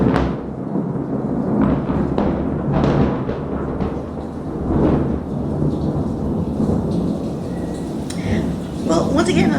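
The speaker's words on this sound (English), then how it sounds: "That was thunder and lightning." Loud thunder rumbles over steady rain at the Cozumel cruise port, with a heavy continuous wash and repeated booming swells, and a voice talking over it.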